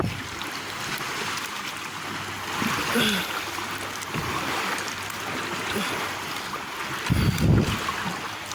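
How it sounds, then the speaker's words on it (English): Water sloshes and splashes against a kayak on Lake Superior in a steady rush, with a louder slap of waves near the end and light wind noise over the microphone. "Ooh, where's these waves coming from?"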